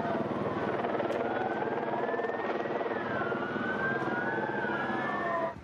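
Helicopters rumbling over Barcelona at night during street protests, a steady loud rotor drone with sirens rising and falling over it throughout, ending abruptly.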